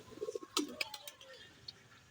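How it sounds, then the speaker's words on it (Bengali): A newly bought pigeon gives a few soft, low coos close by, with some sharp flutters or clicks in between, the cooing fading toward the end. "এই যে দেখতে পাচ্ছেন একটা কবুতর উড়ে আসছে"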